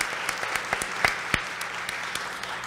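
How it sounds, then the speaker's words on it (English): A crowd at a women's event at Wentworth gives a round of applause: a dense wash of clapping with a few sharp, close hand claps standing out, continuing at a steady level throughout. "let's give them all a big round of applause"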